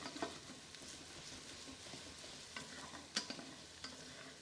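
Food sizzling and browning in a stainless steel sauté pan, a quiet continuous frying crackle broken by a few sharp stirring scrapes and clicks, with no talk.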